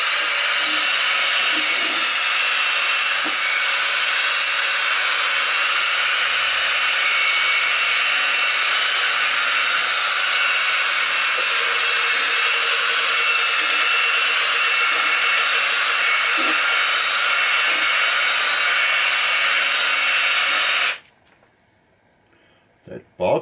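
A high-speed polisher buffs wax into a pinball playfield, giving a loud, steady, unbroken roar with a bright whine that holds for about twenty seconds before cutting off abruptly.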